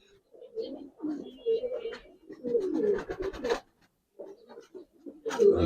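Giribaz pigeons cooing close by, several soft throaty coos in short bursts separated by brief pauses, alongside some scratching and rustling, with no speech.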